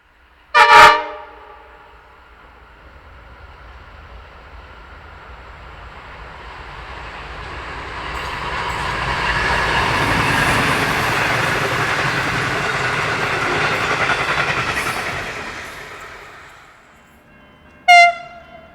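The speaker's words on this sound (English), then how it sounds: "The main reason was to see an NR locomotive hauling the Overland again, and this time NR 59 was doing the honours." An NR class locomotive, NR 59, hauls the Overland passenger train. A loud horn blast opens, the rumble swells to a roaring pass, and a second horn sounds near the end.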